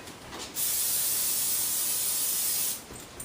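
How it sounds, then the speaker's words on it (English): A steady hiss of aerosol cooking spray coating a pan, a single continuous burst lasting about two seconds, close and fairly loud, with quiet before and after. "I'm going to use Pam to coat the pan"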